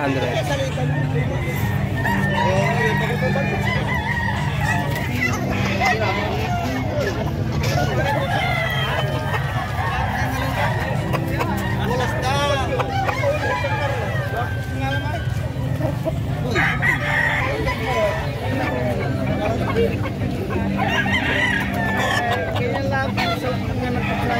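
Chickens and roosters crow and cluck throughout at a busy livestock market in San Carlos City, Pangasinan, with steady crowd babble, some vehicle noise and nearby talk mixed in.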